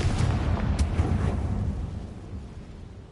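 A Confringo fire spell explodes in the Hogwarts Legacy video game, a deep rumbling boom with a sharp crack near its start, its low roar fading slowly over about three seconds.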